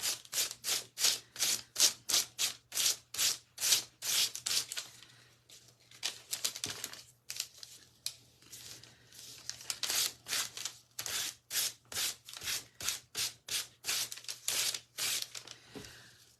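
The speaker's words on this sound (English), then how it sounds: "I'm going to go ahead and give it a sand." A piece of coffee-stained Osnaburg fabric is sanded by hand in rapid back-and-forth strokes, a close rasping scrape in rhythmic bursts separated by brief pauses, over a faint low hum.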